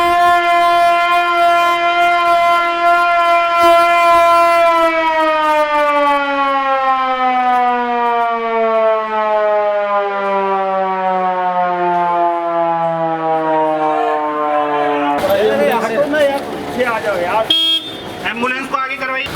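Loud wailing siren at a civil defence drill, holding a long sustained tone that slowly slides downward over many seconds before breaking off into a jumble of traffic and other noise near the end.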